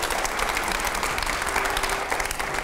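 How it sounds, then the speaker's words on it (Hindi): A studio audience at a televised interview with India's foreign minister bursts into brief, steady clapping, a short dense round heard at moderate distance with no voices over it. "पहले जोरदार तालियां हो सवाल की।"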